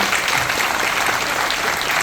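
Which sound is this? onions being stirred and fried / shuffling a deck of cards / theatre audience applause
theatre audience applause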